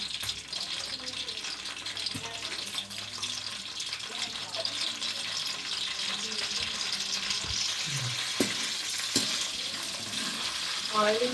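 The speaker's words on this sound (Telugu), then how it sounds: "తాలింపు వేస్తున్నాను" A tempering of eight garlic cloves frying in hot oil in a home kitchen, steady close sizzling and crackle with a few sharp pops and faint stirring.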